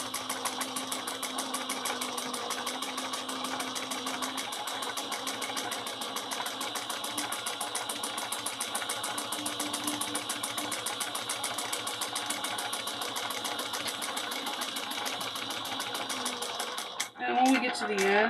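A sewing machine stitching a handbag in a fast, steady mechanical rhythm that runs without a break, with a brief clunk and stop near the end, heard up close.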